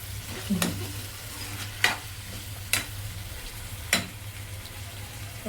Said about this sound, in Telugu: ఫ్రెండ్స్ వేగుతున్నాయి